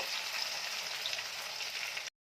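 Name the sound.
onions frying in hot oil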